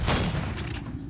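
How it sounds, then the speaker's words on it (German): A shotgun blast in the sci-fi survival game Empyrion, one loud boom with a rolling, noisy tail that stays dense and fills the whole second, heard alone without talk. "Einmal mit der Shotgun und gleich alles ein Loch weg hier. Und gleich ein Loch reingeschossen."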